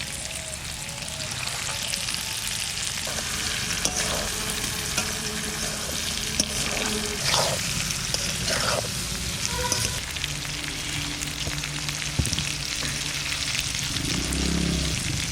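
Chillies going into a frying raw mango and brinjal pickle in a pan, a steady loud oil sizzle with scattered crackles and occasional stirring scrapes throughout.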